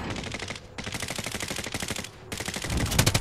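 Rapid automatic gunfire in the Modern Warfare Warzone video game, continuous bursts with a short pause, loud and close throughout.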